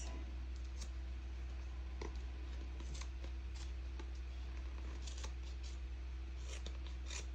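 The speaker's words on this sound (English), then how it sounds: "And then you cut this." Scissors snipping crochet yarn strands, a handful of short, soft clicks scattered over a steady low hum, close but faint, with no talking.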